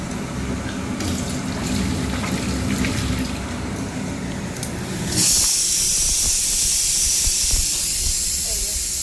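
Pressure cooker on a home stove cooking dalia, releasing steam: kitchen clatter and background noise give way halfway through to a loud, steady, close hiss that continues to the end.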